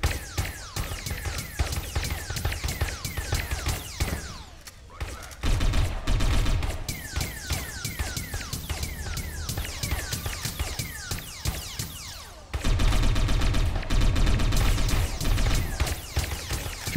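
Heavy gunfire fills a firefight in the Satellite Reign video game, with dense repeated shots and rapid bursts continuing almost throughout and growing louder in two stretches.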